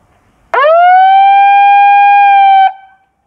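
A TOA ER1215 handheld megaphone sounds its siren in one loud, close, steady electronic tone that sweeps up quickly at the start, holds for about two seconds and then cuts off, with nothing else around it.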